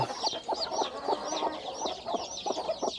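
A mother hen clucks repeatedly and close by on a rice-field chicken farm, with short, steady calls and no voices.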